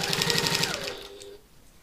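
A sewing machine runs a seam at regular stitch length with backstitching, its rapid rhythmic needle chatter steady and close before slowing and fading out near the end.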